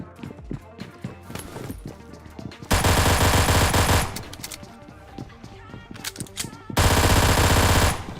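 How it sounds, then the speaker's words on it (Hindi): Automatic gunfire in the PUBG Mobile battle royale game: two long, loud sustained bursts, each lasting over a second, stand out against quieter in-game sounds and scattered shots. "तो भाई इसके मैंने ऑलमोस्ट 10 गोली बजा दी"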